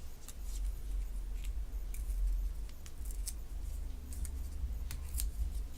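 Paper corners are torn off by hand for a geometry lesson, giving short crisp rips and crackles in uneven bursts, close by, over a low background rumble with no talking.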